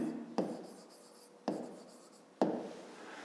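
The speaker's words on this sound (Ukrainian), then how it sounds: "давайте ми тоді так і запишемо. Записуємо." Handwriting with a pen or chalk during a fifth-grade math lesson: three short, crisp scratching strokes spaced about a second apart, close and clear over a quiet room.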